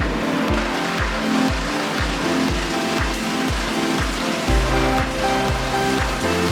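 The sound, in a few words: heavy-duty plastic granulator crusher shredding soft PVC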